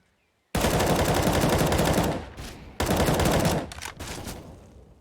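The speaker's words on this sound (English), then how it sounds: "but Yugi with a double deagle headshots" Dense, loud gunfire from a CS:GO match on Inferno, Desert Eagle shots among it, in two long sustained roaring bursts with a brief gap between them, close and overpowering.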